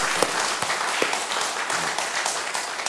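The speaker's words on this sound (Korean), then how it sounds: "한 박수로 한번 성령님께 영광을 올려드리겠습니다" A church congregation breaks into a round of applause in praise, a dense continuous burst of many hands clapping close by for several seconds.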